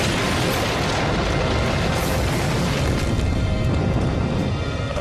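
A dense, sustained roar and rumble as a burning church spire struck by lightning collapses and crashes onto the sidewalk, loud and unbroken across the whole stretch with no voices.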